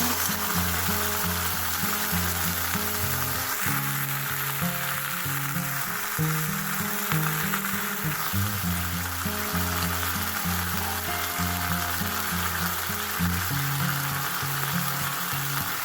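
Sardines sautéing in a pan for ginisang pechay, a steady loud sizzle of frying oil running continuously, with occasional stirring scrapes and a faint hum in the background.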